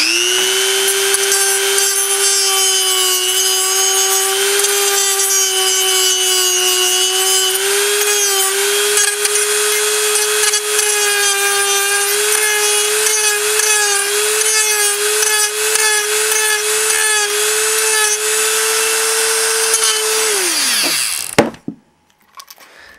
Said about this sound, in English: take the Dremel to it and sand that off